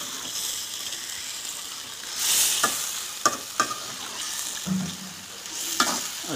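Chicken karahi being stirred in a pan at home, a steady sizzle and frying hiss throughout with repeated scraping stir strokes and occasional sharp utensil clinks against the pan.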